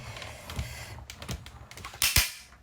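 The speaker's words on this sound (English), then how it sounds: "just run that through, and it will crack and creak" Metal cutting dies cracking and creaking as they are fed through a die-cutting machine in a card-making session, a series of sharp close snaps and crunches that grow louder toward the end.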